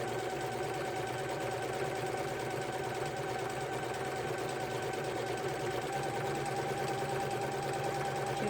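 A sewing machine runs steadily, stitching fancy stitches in colored thread, with a continuous mechanical hum and fast rhythmic needle clatter throughout.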